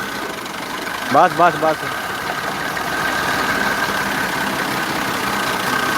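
A 2013-model NF 240 tractor engine idles steadily on a Punjab village farm, a continuous mid-pitched rumble under someone shouting short commands early on.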